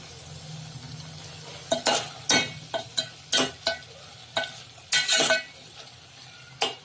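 Bottle gourd curry cooked with milk being stirred and mashed in a pan, with a series of about nine scraping, clanking spatula strokes against the metal over a soft steady sizzle, close by.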